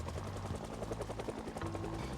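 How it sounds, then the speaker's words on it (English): Helicopter flying overhead in a zombie video game, a steady rotor thrum with rhythmic pulsing that runs throughout the short stretch. "Helicopter, will you go away?"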